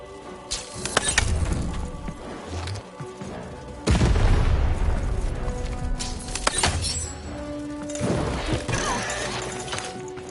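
Cannon blasts in the Lost in Random video game: several heavy booms with deep rumbling tails, the loudest near the middle, close and forceful amid clattering game effects.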